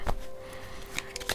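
Tarot cards being shuffled by hand during a reading, a few soft riffling and slapping bursts separated by quiet pauses, close and faint with a faint steady hum underneath, no talking.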